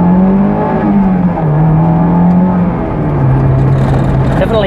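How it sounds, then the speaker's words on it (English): A Honda S2000 sports car drives with a loud, steady engine drone whose pitch rises and falls through gear changes, heard close from inside the cabin with constant road and wind noise. "Definitely a noisy car, that's for sure."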